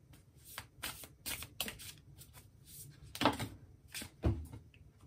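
Tarot cards are shuffled by hand at close range in a series of quick, crisp riffling bursts separated by brief pauses, with a couple of louder slaps of the deck near the end.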